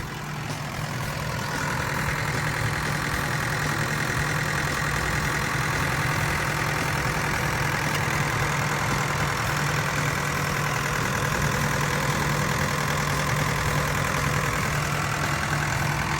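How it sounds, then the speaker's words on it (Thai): The Isuzu diesel engine of a Kobelco SK75SR-3 excavator idles steadily at close range, a constant low rumble with a droning hum, running alone without any voices. "ตัวนี้จะเป็นเครื่องยนต์ของอีซูนะครับ"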